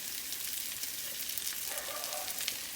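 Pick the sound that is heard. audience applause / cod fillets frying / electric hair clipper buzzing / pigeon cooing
cod fillets frying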